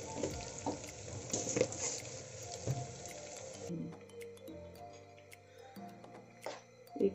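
Green chilies and onions frying in a pan, a soft hiss with stirring clinks and scrapes, fading quieter partway through, with faint voices and household sounds in the background.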